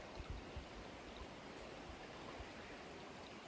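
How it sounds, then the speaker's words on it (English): A small creek runs below a wooded slope, its water giving a steady, soft rushing wash that sounds distant and faint, with a few low bumps near the start. "you might be able to just make out the creek"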